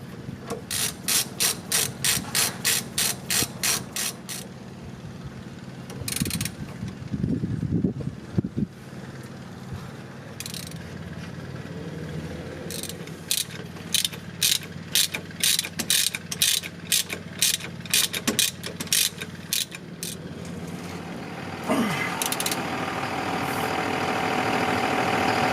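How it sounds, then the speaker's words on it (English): A ratchet tightens bolts on a Dodge Ram's replacement steering stabilizer, giving bursts of rapid, close clicking separated by pauses, with some clunks and handling noise in between. "Got the bolts in, just gotta tighten them up."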